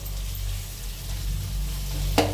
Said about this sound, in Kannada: ನಾವು ಮಂಡಕ್ಕಿಗೆ ಹಾಲು ಹಾಕ್ತೀವಿ ನೋಡಿ